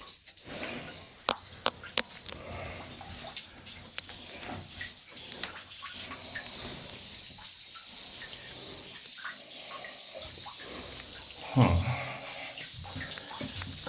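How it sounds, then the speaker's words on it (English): Water gushes from a broken well pipe outdoors as a steady, close, broadband rush with scattered sharp clicks and splashes, swelling into a brief louder surge near the end. "See all the water coming out?"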